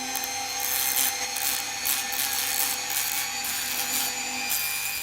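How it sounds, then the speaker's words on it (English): An 80 grit flap wheel on a rotary tool resurfaces the carbon-fouled aluminium exhaust port of a Jaguar S-Type cylinder head, giving a continuous high-pitched abrasive whine and rasp that stays steady and close throughout. "the rotary tool is my last chance, and I guess I choose this 80 grit flap wheel"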